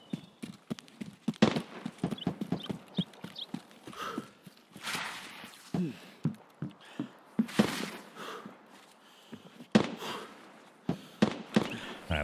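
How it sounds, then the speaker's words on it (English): Distant gunfire aimed at a vehicle in the video game Escape from Tarkov, heard as a steady run of sharp, irregular cracks and pops at moderate level, repeating without pause for several seconds. "I think they're shooting at the vehicle. It's a little bit too much constant fire and no fire back."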